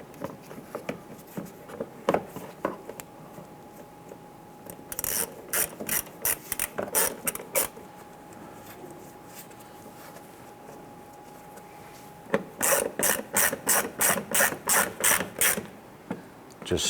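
Hand ratchet driving Torx head screws on a 2008-2013 Nissan Rogue during serpentine belt tensioner work, heard as two close, loud bursts of rapid rhythmic clicking separated by a quieter stretch of faint handling noise.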